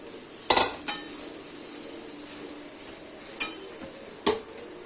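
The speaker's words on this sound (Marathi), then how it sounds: "आता छान असं तेलावरती परतून घ्यायचं सर्व कांदा वगैरे सर्व मिक्स करून घ्यायचं" Leftover chapati pieces with onion are sautéed in oil in a kadhai for upma, a faint sizzle under four sharp metallic clinks of a spatula against the pan.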